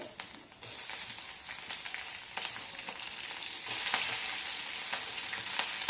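Mustard seeds, curry leaves and chillies frying in hot oil for kande pohe, a steady broadband sizzle with scattered sharp pops and crackles, growing slightly louder and busier toward the end.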